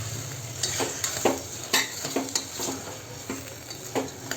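Toor dal fries in a pan for drumstick sambar under a soft sizzle, while a spoon scrapes and taps against the pan in irregular strokes, close and fairly quiet.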